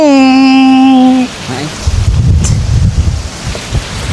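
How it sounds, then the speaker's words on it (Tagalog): A loud harmonic tone cuts off, then strong wind roars and buffets against the microphone in a rumbling, gusting rush at a fishpond during high tide. "Grabe, ang lakas ng hangin"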